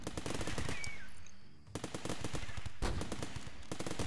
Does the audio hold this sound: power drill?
no